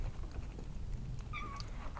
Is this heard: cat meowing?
yes